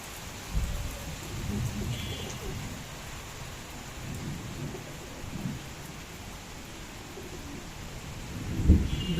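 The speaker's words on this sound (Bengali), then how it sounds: "বৃষ্টি পড়তেছে," Heavy rain pours steadily, with low thunder rumbling repeatedly underneath and one stronger close rumble near the end.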